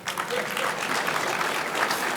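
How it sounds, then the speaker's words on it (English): Steady applause from an audience at a city's State of the City address fills the room, a dense, even wash of many hands clapping continuously and fairly loud. "Please give them another round of applause."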